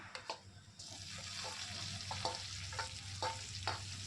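Onion, green chili and tomato fry in a pan for a pressure-cooker veg biryani, a steady close sizzle broken by regular scraping stirs, alone with no talk.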